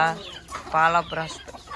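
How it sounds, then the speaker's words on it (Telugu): Chickens cluck and call in a short burst, with a rooster's harsher voice among the hens, close by and fairly loud. "ఇప్పుడు పుంజులన్నీ ఒక దగ్గరికి వచ్చాయి"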